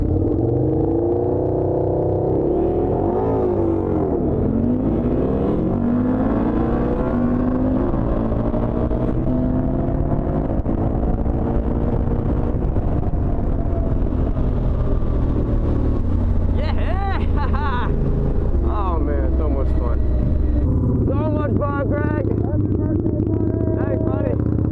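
An Orange County Choppers motorcycle on a speed run roars loudly and continuously, its engine pitch climbing through the gears, with a voice talking briefly over it near the end.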